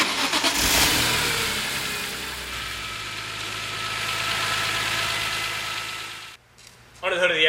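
A 2006 BMW M3 Competition Coupe's 3.2-liter inline-six revs and roars steadily for several seconds, loud and close, then cuts off abruptly before a brief burst of noise at the end.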